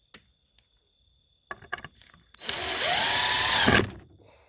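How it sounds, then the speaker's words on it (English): A power drill driving a small screw while framing window openings in a hunting blind: a few quiet clicks, then one loud sustained whirring burst of about a second and a half, close up, ending abruptly. "I'm going to set a little screw right there"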